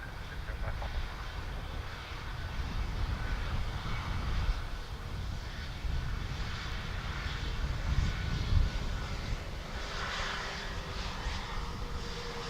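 Continuous jet engine roar of airplanes at Dublin Airport, a steady broadband rumble and whine with gentle swells, heard from a plane-spotting spot with faint chatter beneath.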